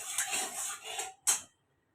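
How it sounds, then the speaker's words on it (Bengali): Ghee and white oil stirred together in a pan for a korma, metal utensil scraping and clinking in short strokes, close by, ending with a sharp knock and then silence. "এবার আমি এই ঘিটা সাদা তেলটা ভালো করে মিশিয়ে দেবো।"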